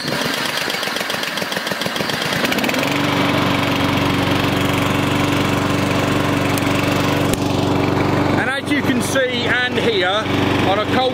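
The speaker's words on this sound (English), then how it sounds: "this lawnmower has not been started for a couple of days, so we're going to see how easy it is to start" A lawnmower engine cold-started with a pull cord after sitting unused for a couple of days: rough pulls give way to a steady, loud running drone that continues to the end, with voices briefly over it near the close.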